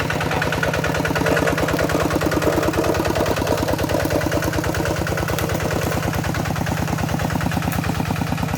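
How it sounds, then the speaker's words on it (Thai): A Kubota RT90 walk-behind tractor's small single-cylinder engine chugs steadily and loudly nearby in a fast, even rhythm without pause. "ไถไปเรื่อยๆนะครับพี่น้อง รถไถเล็กนะครับ"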